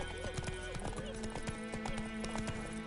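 Hooves of Roach, a horse in The Witcher 3, clip-clopping in a steady walking rhythm, with a voice speaking over the footsteps.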